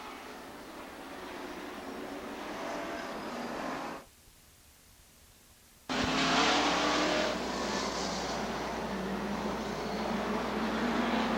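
Race cars roar around Rockford Speedway during the 1999 Joe Shear Classic, engines loud and continuous, dropping out for about two seconds before the field thunders back louder under the green flag.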